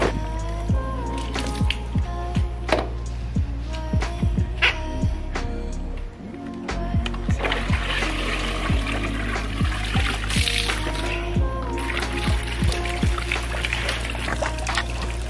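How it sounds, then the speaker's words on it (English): Water from an opened Fluval FX6 aquarium canister filter drains out of the tank into a bucket, a continuous close pouring and trickling with scattered drips and splashes, briefly dipping midway before resuming. "The water is draining out of the tank round here into my bucket"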